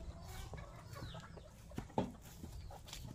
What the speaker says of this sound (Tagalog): Yan mga manok sis.